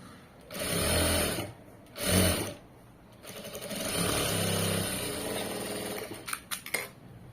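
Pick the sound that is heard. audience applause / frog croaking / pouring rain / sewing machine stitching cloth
sewing machine stitching cloth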